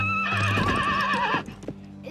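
A horse gives a loud, close whinny that wavers for over a second before breaking off, with hoof clip-clops and stable noises around it.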